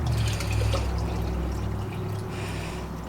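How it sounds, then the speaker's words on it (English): Water circulated by a pump through dry reef rock in a tub being cured with bleach, a soft continuous pouring and trickling sound, close and steady. "Alright, so I just plugged it in and water's circulating through."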